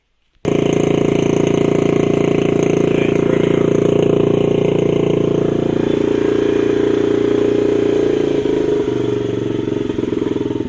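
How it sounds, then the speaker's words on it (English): A Honda CRF50 dirt bike engine, kick-started with the choke on, catches after a brief silence and runs loud and steady at a high idle, with the revs settling slightly toward the end. "let's kick it over and see if it revs funny still."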